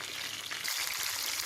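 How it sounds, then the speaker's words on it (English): Fish fry Jamaican style in hot oil in a pan, a steady close sizzle with bright crackling and no talk. "I just flip them and they're just sizzling on the other side now"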